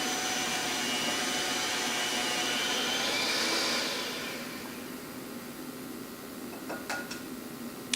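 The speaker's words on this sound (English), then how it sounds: "I'm going to have the mixer going at about medium speed." Electric mixer running at medium speed through a fairly dry carrot cake batter with pineapple, a steady, close whirring drone that eases down partway through, followed by a few light clinks.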